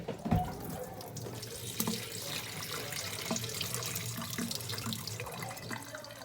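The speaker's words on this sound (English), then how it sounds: "So I'm going to go ahead and drain them now." Starchy water from cooked pasta pours into a kitchen sink during pasta fagioli preparation, a continuous splashing stream with a few louder knocks, fairly quiet and close.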